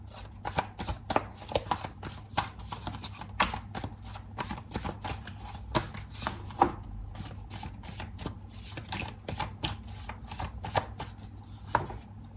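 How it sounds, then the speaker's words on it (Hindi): Tarot cards are shuffled by hand in rapid, crisp riffling bursts with short pauses between, close and clear against a low background hum. "अगर आप स्किप करना चाहें शफलिंग को आप कर सकते हो"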